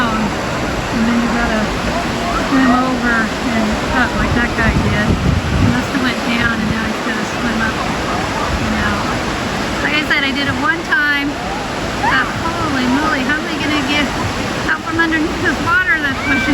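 Waterfall pouring into a pool, steady broadband rush of falling water filling the scene continuously, with voices talking over it throughout.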